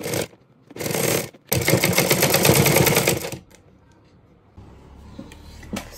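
A sewing machine stitches a corset belt in quick rapid bursts, two short runs then a longer steady whir, close and loud, followed by quieter handling noise.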